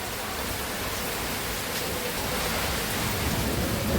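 Heavy rain in Bangalore during the first summer rain of March, a steady dense hiss of downpour pattering on surfaces, loud and continuous with no voices.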